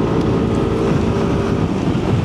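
An air-cooled SYM Symphony ST 200 scooter engine runs steadily on a commute, a loud continuous drone mixed with wind rush and no speech.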